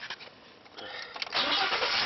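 A Ford car engine cranks briefly in a garage, then catches and settles into a steady idle close to the microphone, with no voices over the start.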